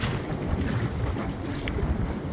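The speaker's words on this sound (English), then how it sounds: "we've got 17 knots of wind coming in from the east, and we're not quite that well protected" Wind at about 17 knots from the east rushes steadily across a sailboat at anchor off Martinique, a dense buffeting roar with low rumble and no voices.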